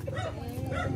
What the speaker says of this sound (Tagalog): Ba't ang dami niyo pong aso?